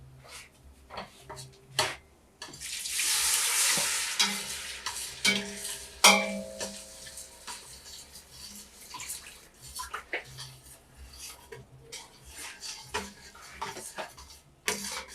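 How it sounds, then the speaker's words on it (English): Meat stock is poured into a pot of ogbono soup, a brief burst of liquid splashing followed by soft stirring, bubbling and scattered utensil clinks, close and moderately quiet. "Then you pour your stock from the boiled meat."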